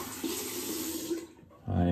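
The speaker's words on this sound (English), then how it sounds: "Let's get the soap off my hands." Running tap water splashes steadily as soap is rinsed from hands at a sink, briefly easing off before a louder gush of flow returns near the end.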